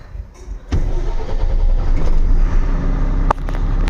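A new Tata Signa truck engine starting: a faint lead-in, then a sudden crank and catch into a loud, steady diesel rumble with a brief clatter near the end.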